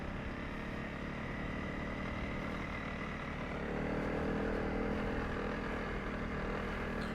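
Motorcycles grinding along a rough, rocky mountain pass road near Botterkloof Pass, South Africa, giving a steady, loud engine drone with wind rumble that swells slightly midway through.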